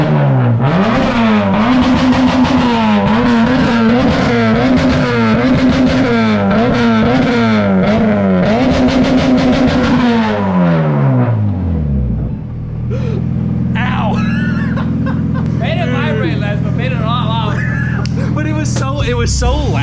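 Toyota FRS with a K24 engine swap and new exhaust, revved repeatedly in loud rising and falling bursts for about ten seconds, then settling into a rough idle while people talk nearby.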